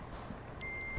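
Truck reverse-warning beeps in American Truck Simulator, a steady electronic tone sounding over the low drone of the idling truck engine, no talk.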